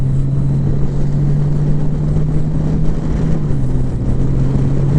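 Honda Gold Wing DCT motorcycle engine running loud and steady while riding through a curve, a constant droning hum with a slight shift in pitch as it downshifts, under heavy wind rush.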